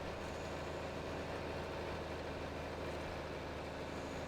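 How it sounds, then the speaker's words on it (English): A straight-piped Oliver tractor in Farming Simulator 22 runs with a deep, steady engine rumble, constant and moderately loud with no talking over it. "they're running the Oliver again."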